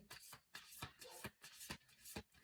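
A small deck of cards is shuffled by hand, with repeated riffling bursts and soft flicks in a quick, uneven rhythm, close and fairly quiet.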